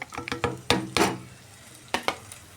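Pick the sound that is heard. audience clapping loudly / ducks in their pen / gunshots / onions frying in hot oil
onions frying in hot oil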